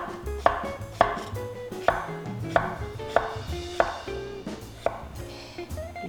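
A knife slices through an old cucumber (nogak) on a cutting board, giving sharp, evenly spaced chopping knocks about every half second. The cuts sit close and clear with no talking.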